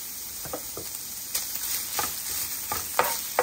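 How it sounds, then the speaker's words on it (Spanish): Beef steak for tortas de asada browns on a hot comal griddle with its fat, giving a continuous sizzling hiss with a few scraping strokes and soft taps, close and moderately loud, without speech. "lo vamos a poner sobre el comal para que se vaya guisando un poco"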